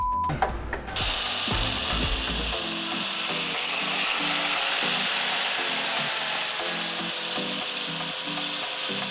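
Power tool grinding and shaving material off a Honda S2000 engine mount top hat, a loud, steady abrasive whir that runs continuously after a brief clatter at the start.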